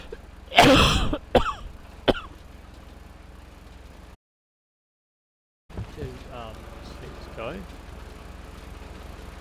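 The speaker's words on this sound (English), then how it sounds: "Excuse me for the coughing." Person coughing several times in loud close bursts at the start, followed by a short silence and then continued talking over background game sounds.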